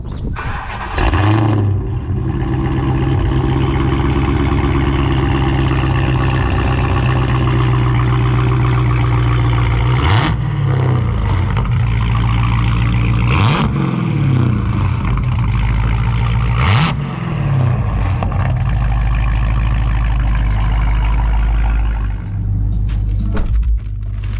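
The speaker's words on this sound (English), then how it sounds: "So I'm gonna go ahead and start this up." A Dodge Charger Hellcat sedan starting up into a deep loud idle, followed by three sharp throttle revs that rise and fall, then settling back to a heavy steady rumble, close and alone.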